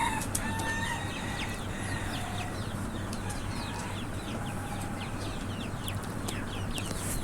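Native desi chickens and roosters on a farm cluck in a dense, overlapping chorus, with repeated crowing calls rising above a constant low hum throughout.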